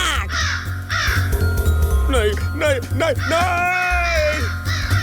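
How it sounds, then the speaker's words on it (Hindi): Cartoon crows caw loudly and repeatedly in harsh, drawn-out calls, mixed with animated characters talking and crying out. "ये कौवा कैसे बन गया?"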